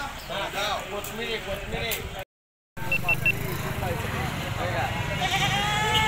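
Goats and sheep bleat repeatedly among crowd chatter at a weekly goat and sheep market in Murgud, with several overlapping calls, a short gap of silence, then steady market noise and voices.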